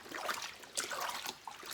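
Taro roots being washed in salt water, faint trickling and sloshing with a few soft splashes, close and quiet with no talking.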